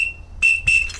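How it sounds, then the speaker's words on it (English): An engineer's double whistle with two tones in one gives a steady high tone, then two loud shrieky blasts in quick succession, each a fraction of a second long. "The next whistle is called the double whistle."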